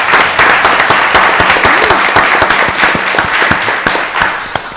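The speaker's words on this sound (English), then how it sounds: "let's give her a round of applause." Applause at a Rockdale County Board of Commissioners meeting, a close, lively burst of individual hand claps from a small gathering that stays strong for several seconds before tapering slightly.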